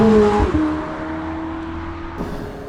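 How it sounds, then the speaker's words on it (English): 2024 McLaren 750S supercar engine, heard close with a steady droning hum after an opening rev that drops in pitch, then a slight lift near the end. "rear window there so you can hear more of the engine even when the top is closed."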